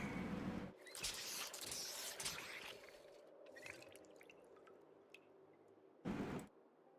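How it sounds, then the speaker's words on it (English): Water bottles being filled in Project Zomboid, soft dripping and gurgling pour bursts at low volume, with a short splashy burst near the end and no talk. "Fill our water bottles real quick."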